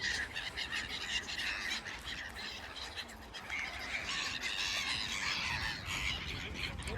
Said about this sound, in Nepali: यो चाहिँ राम राम राम राम चरा कति धेरै